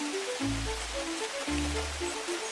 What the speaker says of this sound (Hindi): बारिश के इसी शोर के बीच